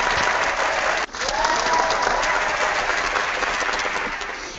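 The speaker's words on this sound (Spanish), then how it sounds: "Espera un momento que no encuentro los aplausos." Recorded applause sound effect played at a book launch event, a dense sustained crowd clapping that cuts out briefly around the one-second mark and then resumes, continuous and fairly loud with no voices.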